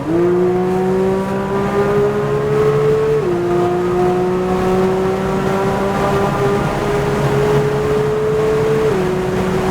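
A loud Porsche 911 engine drones steadily at high revs on the COTA race track, with brief dips as gears shift, pulling hard throughout.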